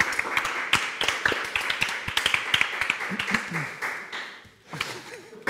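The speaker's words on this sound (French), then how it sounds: "on applaudit Jared Leto." Applause for Jared Leto on a French aperitif game show: scattered, uneven hand claps and taps from a small group, mixed with brief voices and laughter.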